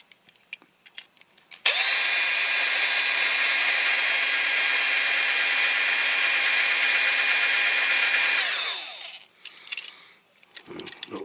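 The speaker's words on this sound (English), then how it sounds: "I might have to drill a little bit more off that front one." A power drill whirs loudly and steadily for about seven seconds drilling a Dinky Toys Rover 75 metal toy car, then winds down, followed by small clicks and handling noises.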